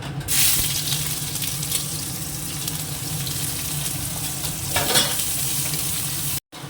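Chopped onion dropped into hot tempering oil in a pan, a continuous close sizzle with stirring scrapes and a brief cut near the end, no talking.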